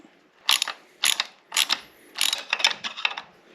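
A ratchet wrench tightens a bolt or nut on the mount of a 2022 Yamaha T9.9 hp kicker outboard motor, giving several quick bursts of close, crisp clicking separated by short pauses.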